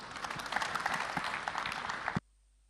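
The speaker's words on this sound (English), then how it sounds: "Let's welcome them on stage with a round of applause." Audience at a World AIDS Day event welcoming a poetic drama team on stage with a burst of applause, lively, uneven clapping that cuts off abruptly into near silence.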